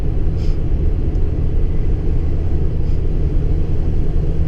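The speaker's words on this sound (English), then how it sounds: "This is a V10." A 2017 Ford F-650 truck with a naturally aspirated V10 engine drones while driving, a constant low rumble and road noise heard from inside the cab.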